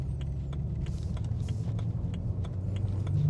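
A BMW E9x M3 on the move, its engine giving a steady mid-pitched drone with light rattles and clicks from inside the cabin, closely heard and with no talking.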